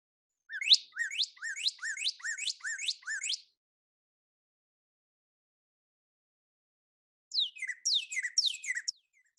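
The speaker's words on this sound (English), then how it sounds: "Okay, that's the cardinal." Cardinal song: a fast series of about seven clear, descending whistled slurs in a quick rhythmic run, a pause of several seconds, then a second shorter run of similar slurs, fairly faint against a silent background.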